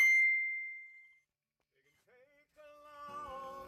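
A single bright phone notification ding rings out clearly at the start of an acoustic performance, then fades away over about a second before quiet guitar and voice resume.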